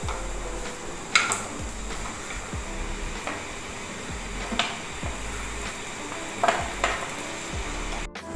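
Fried chicken pieces are lifted out of a hot pan with a utensil: sharp intermittent clinks and scrapes against the metal over a continuous low sizzle, fairly close and spaced irregularly.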